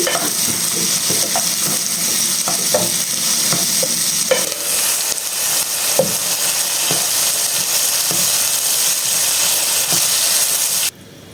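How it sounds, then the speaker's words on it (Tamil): Spices tempering in hot oil for a paneer curry, a loud continuous sizzle with scattered stirring scrapes and clinks of a spoon against the pan, running steadily before cutting off abruptly near the end. "போட்டு இதை நன்கு தாளித்துக் கொள்ள வேண்டும்"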